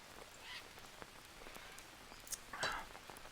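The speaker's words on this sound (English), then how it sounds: "I should be standing in the rain." Steady rainfall in the jungle survival game Green Hell, a soft continuous patter of drops with a few brief sharper splashes and faint chirps over it, fairly quiet throughout.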